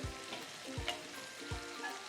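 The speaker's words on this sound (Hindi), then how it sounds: "टमाटर की अब भुनाई होगी" Chopped tomatoes sizzle in hot oil in a pan while cooking an arbi (taro root) masala curry, a quiet, steady crackling fry with three soft rhythmic thumps of a spoon stirring.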